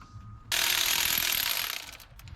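A ratchet works loose a spark plug on the engine of an abandoned 1959 International B100 truck, giving a close, sustained burst of dense clicking that fades out after about a second and a half, with no talk.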